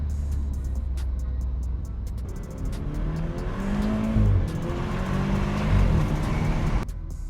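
A tuned BMW F30 328i with the N20 engine heard from inside the cabin, a steady drone building into a rising rev with tire and road noise underneath, fairly loud and close.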